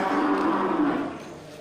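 A Bali cow gives one low, sustained moo that fades out after about a second, close by against a steady background hum.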